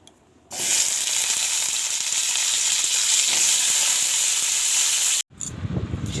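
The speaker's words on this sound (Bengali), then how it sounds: "আর এখানে আছে বেগুন ভাজবো" Eggplant frying in hot oil in a pan, a loud steady sizzle that bursts in abruptly and holds evenly before stopping, followed by a brief softer rustle.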